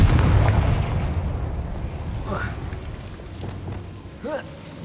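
A Confringo blasting spell in Hogwarts Legacy, cast as a short magical whoosh followed by a booming explosion that trails off into a rumbling, rain-like crackle over steady game ambience.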